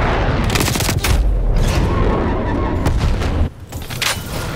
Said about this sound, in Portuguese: Torreta Sentinela Hostil ativa.